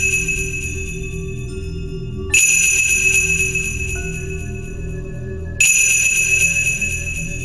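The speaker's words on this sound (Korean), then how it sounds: "방울소리." Small bells jingle in a quiet, eerie setting in the underground hall of a Buddhist temple at night, a bright sustained shimmer that swells at two points over a low droning background, with no voices.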